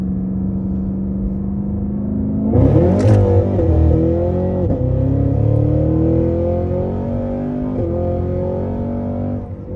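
A 2023 Cadillac CT5-V Blackwing held in third gear, its engine rising from a steady drone into a loud, climbing rev that sweeps upward, briefly dips, and keeps pulling with a rich layered exhaust tone, close and continuous.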